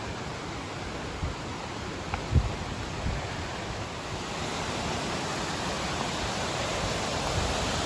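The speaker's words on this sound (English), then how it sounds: "Hear the waterfall." Steady broadband roar of Baker's Falls in Horton Plains, Sri Lanka, a constant wash of falling water heard from nearby on a hiking trail, with a faint bump or two over it.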